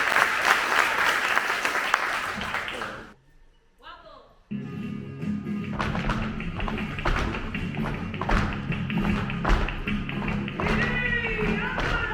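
Audience applause for flamenco dancers at a flamenco gala, loud and dense at first, then a brief drop, followed by clapping mixed with music and rhythmic stamping.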